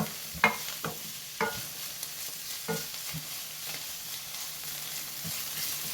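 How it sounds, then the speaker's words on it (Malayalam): Brown cowpeas and methi masala sauté in ghee on high flame, a soft steady sizzle broken by several scraping stirs of the spoon against the pan, close up with no voices. "ഇത് ഹൈ ഫ്ലെയിമിൽ ഒരു 3 മിനിറ്റ് വഴറ്റിയെടുത്താൽ മതി."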